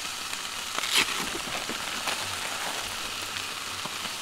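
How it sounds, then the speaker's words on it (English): Light rain falling outdoors at a camp with a hiker trailer near the North Grand Canyon, a soft continuous patter with a few close drop taps and rustles, no voices. "It just started to rain a little bit."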